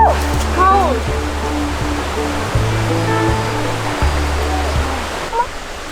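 A cold stream in Devon or Cornwall rushes loudly and continuously close by, with a voice and a dog's movements intermittently over the water.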